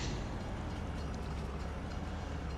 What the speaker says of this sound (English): So we'll wait for the train to pass